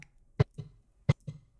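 Two sharp hand claps about 0.7 seconds apart, each a single crisp slap followed by a softer echo, close to the microphone in an otherwise quiet room, used to sync a multi-camera moto vlog recording.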